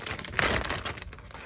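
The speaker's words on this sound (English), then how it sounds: "a plastic bag with some flour." A plastic bag holding flour crinkles and rustles close by in a brief, steady burst of crackling, with no voices over it.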